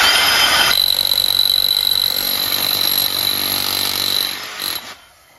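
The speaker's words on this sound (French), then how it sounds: "puis là, on fait le trou officiel." Power drill boring the final hole while relocating an electric meter, a loud high-pitched whining drone that holds steady, dips, then winds down and stops near the end.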